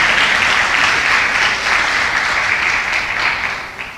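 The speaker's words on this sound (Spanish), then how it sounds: "dele un aplauso fuerte al Señor" A church congregation bursts into loud, dense applause during a sermon, a continuous wash of many hands clapping together that eases slightly at the end.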